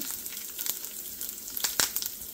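Curry leaves crackling in hot oil for a potato palya, a close, continuous sizzle dotted with sharp pops and spits.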